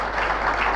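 Audience applause at an Elken awards night, a dense, steady wash of many hands clapping filling the whole moment, loud and continuous without a break.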